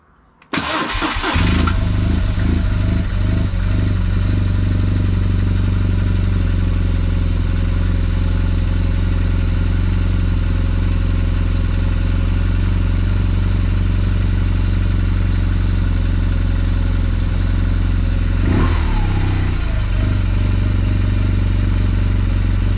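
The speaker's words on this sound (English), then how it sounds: "Let's start the bike again." A motorcycle engine cranks and catches, then settles into a loud, steady idle that runs on without a break, with one brief throttle blip near the end.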